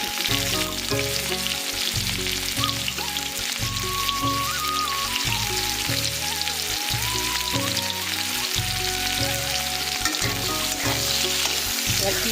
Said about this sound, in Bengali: তেল গরম হয়ে গেছে ফোড়নে আমরা দেবো জিরে আর শুকনো লঙ্কা আর সাথে কেটে রাখা পেঁয়াজ